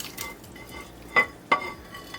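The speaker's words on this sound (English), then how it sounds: "Give it a little stir in there" Turkey kale soup is stirred in a pot with soft swirling sounds and two sharper knocks of the spoon against the pot near the middle, fairly close and with no talking.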